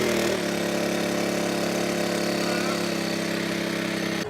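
A steady, droning boat engine idles close by at a constant low pitch at a river landing, with a slight shift in tone just after it starts.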